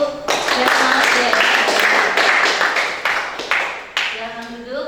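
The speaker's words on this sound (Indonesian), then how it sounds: "Kelompok 2 tepuk tangan dulu" Classroom students clapping together for their group, a dense continuous burst of hand claps with voices mixed in, tapering off near the end as a teacher's voice returns.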